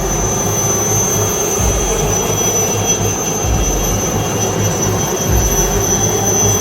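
A loud, continuous roar of two helicopters flying overhead in line-abreast formation, with steady low rumble and whine, no voices.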